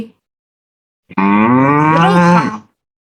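A single long cow moo, loud and close, about one and a half seconds, with a rising then falling tone before silence.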